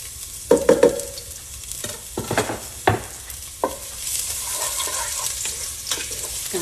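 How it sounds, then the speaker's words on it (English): Oil sizzles and crackles in a pan as chopped garlic is added and a utensil scrapes and stirs, with a few clacks early and a steady frying hiss building later. "It's sizzling."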